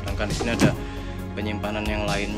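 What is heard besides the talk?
No everyday noise stands out behind the speech.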